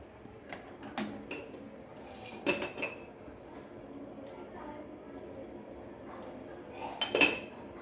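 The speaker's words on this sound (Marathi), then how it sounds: "सर्व छान मिक्स करून घ्यायचे." A spoon stirs drumstick curry in a metal pot, making sparse, faint clinks and scrapes that come in small clusters against a quiet background, with soft talking.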